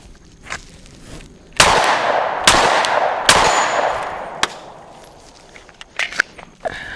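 Three loud, evenly spaced pistol shots from a Glock 43X ring out close by at a shooting range, each trailing a reverberant echo, followed by faint handling clicks.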